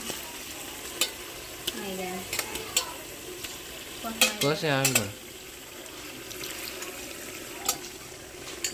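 Boiled eggs bubble and sizzle steadily in a pan of curry gravy, with spoon stirring and a few light clinks of metal, plus a brief voice partway through.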